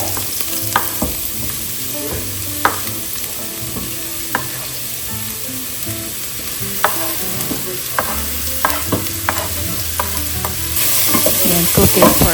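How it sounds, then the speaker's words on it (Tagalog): Carrots, celery and onion sauteing in oil give a continuous sizzle, broken by frequent close stirring clatters and scrapes of a utensil against the pan, with the frying growing louder toward the end. "I'm going to saute the carrots,"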